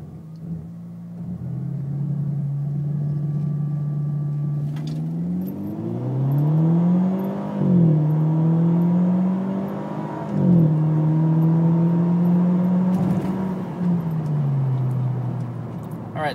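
A Mercedes C250 with a stage 1 tune, intake and quad exhaust revs up from a power brake and accelerates hard from 0 to 60, its deep drone climbing in pitch through several gear shifts, close and loud, before easing off.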